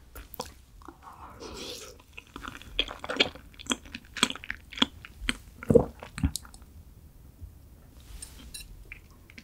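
Close, quiet eating of Canadian sea urchin roe: soft wet chewing and squishy bites in an uneven rhythm, with a few sharper mouth clicks and no talking.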